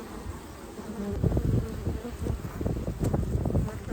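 Honey bees swarming around a hive box, a dense, close buzzing that swells after the first second and carries on steadily with shifting pitch.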